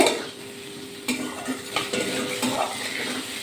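Potatoes are stir-fried in spiced masala in a pan, with a soft sizzle under scattered scrapes and clinks of a spatula against the metal.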